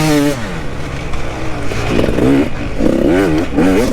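A small KTM 65 dirt bike engine revs loud and close, its two-stroke pitch rising and falling in several quick bursts with no talking.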